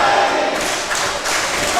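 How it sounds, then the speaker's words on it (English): An elbow strike lands in a live wrestling match between Matty Ice and Tito Lincoln, a dull thud swallowed by a loud, continuous crowd roar that swells and rolls through the arena. "Matty Ice firing back with that elbow as Tito Lincoln walked right into it."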